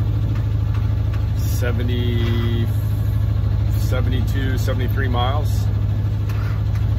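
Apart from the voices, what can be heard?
sailboat engine running, charging batteries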